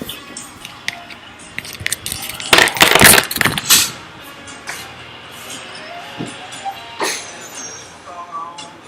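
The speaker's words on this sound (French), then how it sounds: "excusez-moi pour le bruit du micro qui a dû tomber sur le bureau" A loud clattering thump as a microphone falls and knocks onto a hard desk surface, followed by scattered smaller knocks and rustling.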